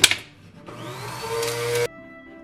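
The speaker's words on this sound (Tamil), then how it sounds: "இப்ப இதை வந்து நல்லா அரைச்சு எடுக்கணும்." An electric grinder whirs through sarakku thool spice powder in a short, loud burst, its motor droning steadily with a rising whine before cutting off abruptly, leaving a faint hum.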